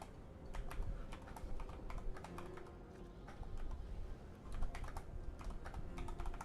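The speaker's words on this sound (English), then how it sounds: "Is this thing just typing?" Fast irregular clacking of keys on a computer keyboard, close and fairly quiet, with bursts of keystrokes over a low background hum.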